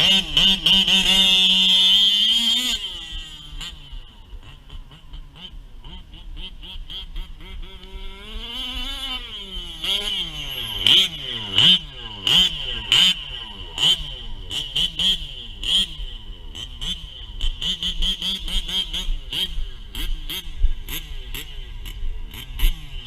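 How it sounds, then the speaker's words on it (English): A 1/5 scale nitro RC car engine with an Olamat exhaust pipe screams at full throttle, then drops and revs in rapid rising and falling bursts, loud and close. "I love the sound of this Olamat pipe"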